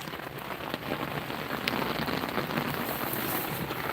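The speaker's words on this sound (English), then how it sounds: "Love the sound of rain on a roof." Steady rain patters on a tin, metal or cloth roof, a dense continuous hiss of drops with occasional louder taps, close and even throughout.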